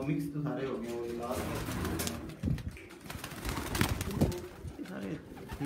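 Racing pigeons coo and rustle close by, their calls mixing with people talking throughout.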